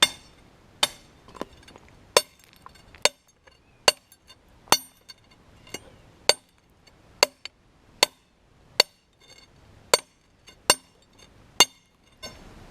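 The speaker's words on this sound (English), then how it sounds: "One man's going to hold the drill bit while the other man is pounding away with much harder blasts." Sharp metallic hammer strikes on a star drill bit driven into limestone ring out one after another at a steady, unhurried pace, each clang bright and close with quiet pauses between.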